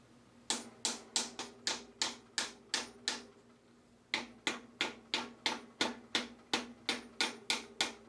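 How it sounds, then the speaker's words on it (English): A pinion gear seal is hammered into place on a 1966 Chevelle rear end, metal striking metal in a fast, evenly spaced run of sharp close blows, a short pause, then another steady burst. "when I hit and had the seal all the way down, you heard that metal against metal sound"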